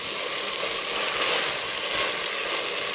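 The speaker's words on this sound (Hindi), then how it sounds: "अब इस गोभी को मैं 10 से 15 मिनट तक इसी मसाले में भूनूंगी" Cauliflower frying in masala inside a handi, a steady, fairly quiet sizzle that holds evenly throughout with faint stirring beneath it and no voices.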